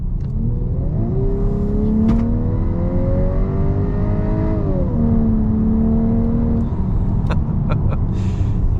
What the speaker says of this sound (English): What I like to do is we'll get it up to 25 and we'll floor it.